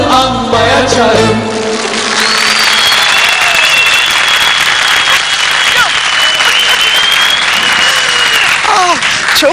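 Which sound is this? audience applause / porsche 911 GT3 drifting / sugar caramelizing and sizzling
audience applause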